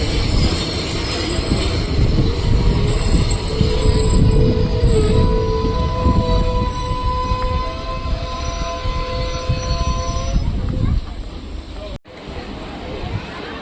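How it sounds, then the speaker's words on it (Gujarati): A departing passenger train on the Porbandar–Bhavnagar route rumbles loudly nearby with rolling wheel noise and high squealing tones, fading toward the end as it moves off. "પોરબંદર ભાવનગર વાળી ટ્રેન ઉપડી ગઈ છે"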